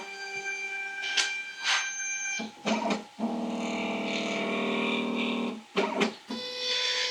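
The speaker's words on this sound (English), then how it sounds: "Now we have to rehome the machine." A CNC router carving a Bigfoot sign returns to its home position, stepper motors whining in sustained tonal runs broken by short pauses and clicks, loud and close with no talk.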